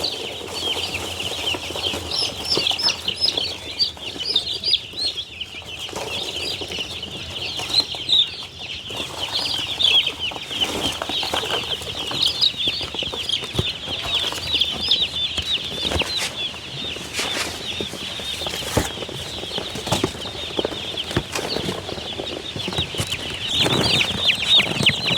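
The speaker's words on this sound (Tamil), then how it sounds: "ஒரு பொட்டிக்கில் வந்து மொத்தம் 50 கோழி குஞ்சுகள் இருக்குது." A box of about fifty young chickens peeps constantly in a dense, high chorus of overlapping chirps, with occasional flutters and rustles, close and fairly loud throughout.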